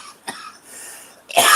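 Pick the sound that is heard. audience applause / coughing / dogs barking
coughing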